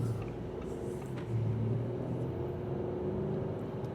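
A 2026 Audi A6 S Line accelerates with a steady, smooth engine rumble and a gently rising pitch, heard from inside the cabin without talk.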